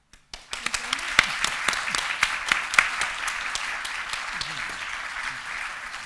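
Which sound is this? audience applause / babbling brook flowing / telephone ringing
audience applause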